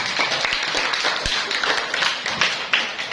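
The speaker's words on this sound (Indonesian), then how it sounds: "tepuk tangan" Children clap their hands in a school classroom: a loose, uneven patter of claps and taps, fairly close and lively, with no clear talk over it.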